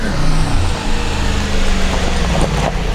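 A Mercedes-Benz AMG G-Class engine revs loudly and steadily as the SUV approaches, a close, continuous rumble with throttle swells.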